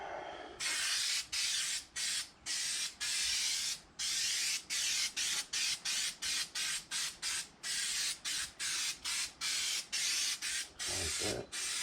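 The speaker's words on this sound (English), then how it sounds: "And we're going to spray the bottom of it." Repeated hissing bursts from an aerosol spray can onto the bottom of a stool, up close, one after another in a quick irregular rhythm, with a soft rustle at the end.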